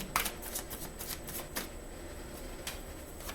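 Tarot cards being shuffled during a reading: a string of quick papery riffles and flicks, close and fairly quiet, with brief louder bursts against a soft background and no talking.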